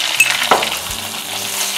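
Curry leaves and green chilies fry in a pan with a steady, close sizzle and crackle, plus a couple of faint utensil clinks.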